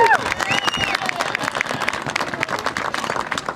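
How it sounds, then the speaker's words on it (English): A crowd at a senior recognition night bursts into continuous applause for an honoree, dense clapping with some cheering and a whistle at the start, loud and sustained throughout. "How about a big round of applause for Kevin Burns."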